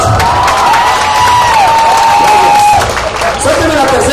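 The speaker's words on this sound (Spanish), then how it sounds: "¡Aplausos!" A live audience at a comedy and improv show breaks into loud, sustained applause and cheering, a dense steady wash of clapping with voices shouting over it.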